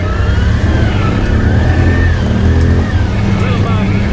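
A Can-Am Outlander 650 XMR ATV with extended swing arms, needing a clutch kit, drones loudly and steadily while bogging through mud, its engine note wavering under loud talk.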